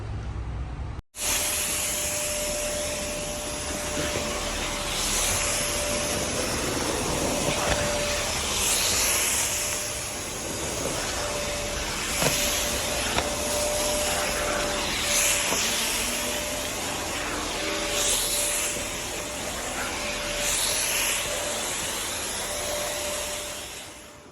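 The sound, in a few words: vacuum cleaner running on carpet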